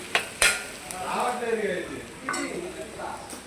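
Cabbage fry with chili powder and garam masala cooking in a pan, a couple of sharp spatula clanks followed by soft stirring and a low sizzle, with a voice talking over it.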